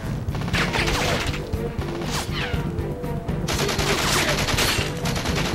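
Dense, continuous gunfire fills a Goldeneye 007 match on the Wii, with rapid repeating shots and crashing impacts over steady game music and ambience. The sound stays loud throughout.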